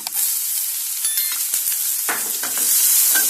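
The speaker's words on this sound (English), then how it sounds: "In this we'll add some chopped onions" Chopped onions hitting hot oil in a pan for baby corn pepper dry, giving a loud close crackling sizzle with a few stirring scrapes and no talking.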